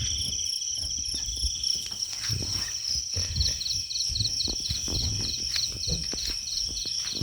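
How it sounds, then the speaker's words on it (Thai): Crickets and other insects chirp at night in the countryside, a dense steady chorus of high pulsing trills layered over each other, with faint scattered rustles and knocks nearby and no talking. "ก็จะมีเสียงแบบแมลงตลอดนะครับ"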